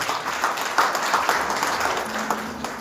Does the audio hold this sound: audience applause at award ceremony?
yes